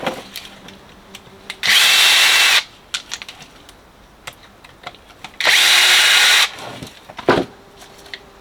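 A power screwdriver backs screws out of a metal plate in two loud whirring bursts of about a second each, separated by quieter clicks, taps and handling noises.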